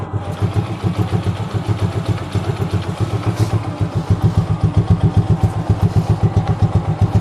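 A Suzuki Gixxer motorcycle engine idles close by with a steady, rapid chugging rhythm that holds evenly throughout.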